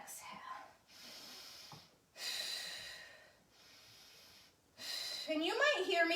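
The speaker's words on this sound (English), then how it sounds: "I want you to be able to hear my breathing." Someone doing mat Pilates breathes in an exaggerated, audible way, with slow alternating inhales and exhales close by, and a voice joins near the end.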